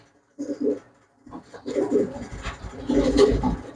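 Pigeons coo at a pigeon market, with a short burst of calls followed by steadier, overlapping cooing and rustling from several birds close by.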